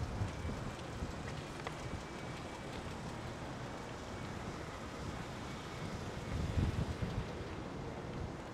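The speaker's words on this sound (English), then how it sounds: "And the wind has picked up." Outdoor wind buffets a wireless microphone on a street in Toronto's Weston neighbourhood, giving a steady low rumble that swells into a louder gust near the end, with no voices.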